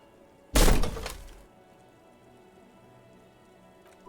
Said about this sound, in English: This time, something cracks inside.